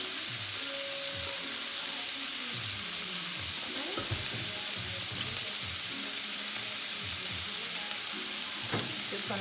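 Steak sizzles steadily in a hot pan, a constant loud crackling hiss with scattered pops and utensil clicks throughout.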